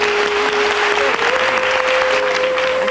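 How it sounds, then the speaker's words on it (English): An audience at a Popstars audition claps loudly and continuously, with a thin held tone from a voice or instrument running through the applause. "So we just like to, you know, give you a round of applause"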